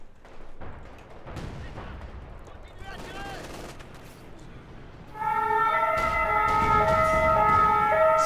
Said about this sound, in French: c'est l'ambulance américaine là, qui... qui est à la base